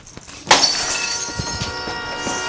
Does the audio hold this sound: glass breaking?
yes